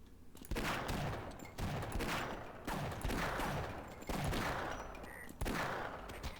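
Gunfire in the video game Half-Life Ray Traced: five loud, evenly spaced shots about a second apart, each with a sharp attack and a reverberant tail, alone with no talking.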